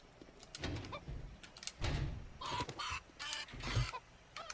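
A chicken in the 7 Days to Die video game makes soft, intermittent clucks in short bursts, fairly quiet, with scuffing noises between them and no talk.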